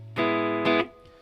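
An electric guitar runs through a Dude overdrive straight into an amplifier on its normal channel with light reverb: two mildly driven strummed chords ring out, the second briefly louder, then decay into a soft tail.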